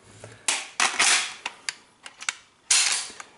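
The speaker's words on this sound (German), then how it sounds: "Ladehebel, zack." Charging handle of a GSG MP 40 9mm PAK blank pistol racked by hand, several sharp close metallic clacks and snaps spaced irregularly over a few seconds.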